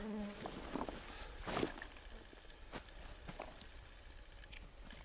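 Mosquitoes and other insects buzz faintly around a hot forest trail near a beaver dam, with thin whining tones drifting in and out over quiet rustling and a few soft footsteps.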